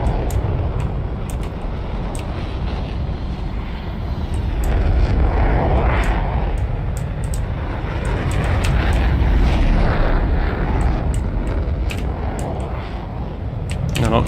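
A British Harrier jet roars continuously in the video game War Thunder, a loud, dense engine rumble that swells and recedes through aerial combat, with sharp clicks and brief bursts scattered on top.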